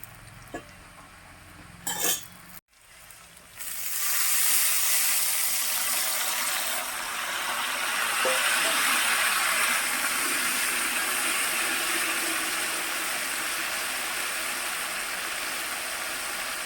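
Jackfruit pieces fry slowly in oil over a low flame, giving a steady, even sizzle that rises after a couple of brief clinks and carries on unbroken without talk.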